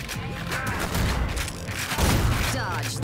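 Shotgun fire in the first-person shooter Ion Fury, several heavy booming blasts with thuds among game noise, loud and close, with someone talking at times.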